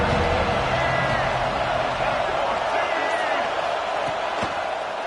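A stadium crowd in the video game EA College Football 26 keeps up a dense, steady roar of cheering throughout, loud and unbroken with no clear peaks.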